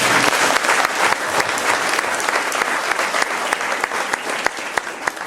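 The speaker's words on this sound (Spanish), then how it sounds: "¿Por qué no brindamos fuertes aplausos a Cristo?" A congregation gives loud, sustained applause for Christ during a Catholic talk on Mary's virginity, many hands clapping in a thick, continuous roar with sharper individual claps popping out near the front.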